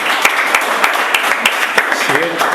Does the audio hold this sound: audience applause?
yes